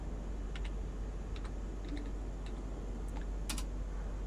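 Keys tapped on a computer keyboard to enter flight data, a sparse series of light clicks at an uneven pace over a steady low background hum.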